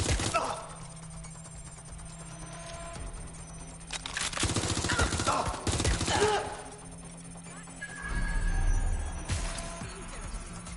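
Bursts of automatic gunfire crackle in Watch Dogs Legion, with a long rattling volley in the middle and another toward the end, set over a steady game background hum.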